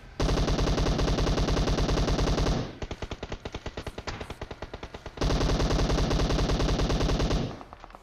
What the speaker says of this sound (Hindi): अगर मेरे अलावा कोई और बैरल चलाता है ना ये M762, उसकी आवाज रिकॉर्डिंग में बहुत जोर से आती है